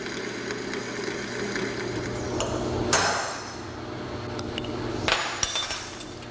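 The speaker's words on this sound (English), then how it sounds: "I'm drilling a hole in my upper hinge member that I will then tap to accept a grease fitting" A drill bores into a steel gate hinge member in a blacksmith shop, the motor holding a steady whine with sharp metallic clinks and bumps as the bit bites and the work shifts.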